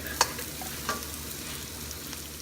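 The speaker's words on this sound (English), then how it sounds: "Let's cook the onion for a minute." Onions frying in a pan for pork kare kare, a steady close sizzle with a couple of sharp clinks from a stirring utensil early on.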